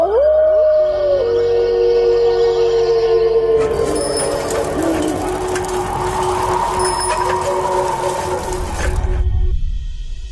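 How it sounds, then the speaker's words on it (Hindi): A pack of dogs howls outside a bedroom window at night, long rising and falling wails overlapping one another, loud and close and continuing steadily throughout without any talk. "राजा के कमरे की खिड़की के बाहर बहुत सारे कुत्ते आ चुके हैं"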